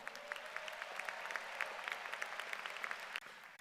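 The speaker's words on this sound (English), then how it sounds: "Clap it up for them." Crowd at a high school graduation ceremony for the class of 2025 clapping steadily for the graduates, a fairly faint, even patter of many hands that stops abruptly near the end.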